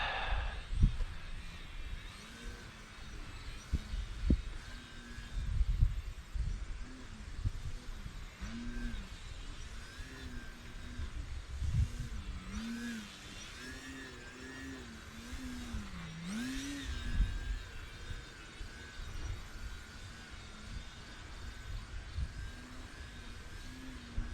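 Bayer Model 32-inch Edge 540 RC model airplane flying, its electric motor whirring steadily with rising and falling pitch as it maneuvers, moderately loud over light wind noise.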